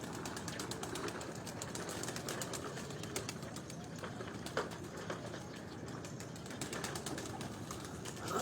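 Pigeons released from a rooftop in Sheikhupura give a steady wash of rustling and fluttering, with scattered soft coos and wingbeats over a constant outdoor background.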